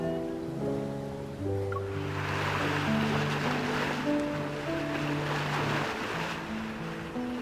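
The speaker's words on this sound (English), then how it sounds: "Why do I hear waves in the background?" Ocean waves wash in the background of a phone call in Love and Deepspace, a soft continuous surf hiss under sustained musical tones, fairly quiet and steady throughout.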